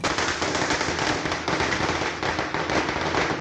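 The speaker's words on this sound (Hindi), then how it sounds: "उन्होंने पटाखे फोड़े" Firecrackers set off in celebration in Saharsa, Bihar, a dense, continuous rattle of rapid pops and bangs, loud and close, with no pauses.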